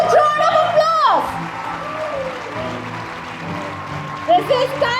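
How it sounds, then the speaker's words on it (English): An audience at a campus graduation ceremony claps in a sustained round of applause, a broad steady patter underneath an announcer's amplified voice speaking over it at the start and end. "give them a huge round of applause"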